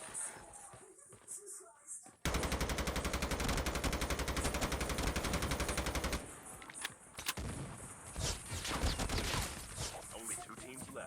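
M4 rifle fire in a battle royale video game, a loud sustained burst of rapid automatic shots lasting about four seconds, with scattered single shots and low game noise before and after.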